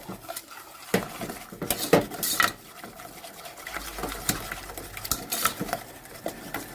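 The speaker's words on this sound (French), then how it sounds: "On mélange les œufs." Eggs being mixed in a bowl for a mandarin and lemon cake, with close clinks and taps of a utensil against the bowl, irregular and soft, plus a little wet stirring.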